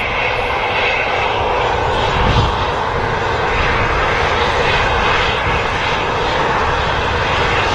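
Airplane moving along the runway at Manchester Airport, with a loud, continuous close-up engine roar and broadband whoosh that stays steady throughout.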